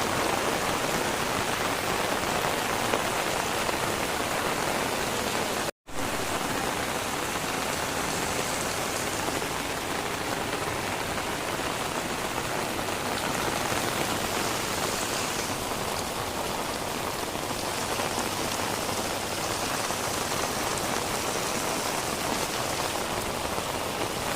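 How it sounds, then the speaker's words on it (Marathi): Heavy rain pours steadily onto a waterlogged street, a dense, continuous hiss of drops on water and hard surfaces that stays loud and even throughout, with one brief dropout partway and no voices. "सकाळपासून खूप पाऊस पडतो"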